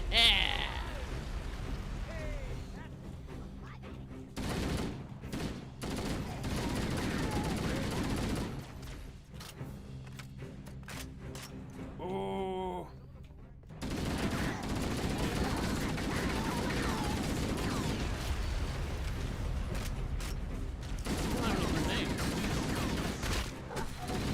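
Grenade explosions and bursts of gunfire in a first-person shooter video game, loud and continuous with short gaps, while a player reacts over them.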